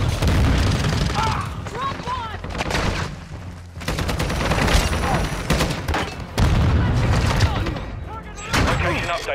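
Semtex grenade explosion during a Call of Duty: Modern Warfare II hardpoint match, heard amid loud bursts of gunfire and booming blasts, with shouted voices mixed in.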